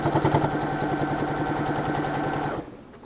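A sewing machine runs at a fast, steady mechanical stitch for a few seconds, then stops abruptly, leaving quiet room noise.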